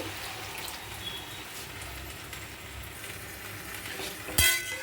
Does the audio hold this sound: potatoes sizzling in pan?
yes